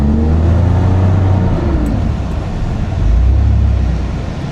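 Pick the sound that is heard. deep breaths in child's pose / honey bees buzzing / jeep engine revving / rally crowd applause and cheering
jeep engine revving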